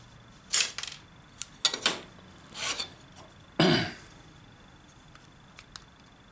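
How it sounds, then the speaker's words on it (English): A hand file rasps against thick aluminium brackets in a garage, a handful of short, scratchy strokes spaced irregularly, with one longer, heavier stroke near the end before quiet. "I'll just file these down. This is reasonably thick aluminium."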